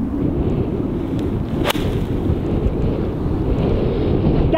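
Steady wind gusts across an open golf course buffet the microphone in a continuous low roar, with one sharp brief crack partway through and no voices.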